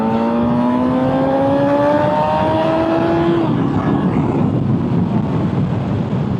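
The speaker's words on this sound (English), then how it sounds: "I hope you can hear the induction, it is unbelievable." A 2025 M 1000 XR sport motorcycle engine rises in pitch under hard acceleration through the gears from third, loud and close, with a strong intake roar and wind rush.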